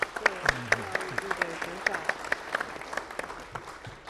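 Audience clapping for Nobel laureate writer Gao Xingjian at a press club talk, a sparse, uneven patter of hands with distinct individual claps, while a voice speaks over it.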